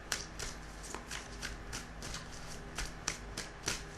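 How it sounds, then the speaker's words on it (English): Tarot cards being shuffled by hand, a series of soft riffling and slapping bursts with a few sharper snaps, close up and steady, no voices. "We're going to shuffle the cards again."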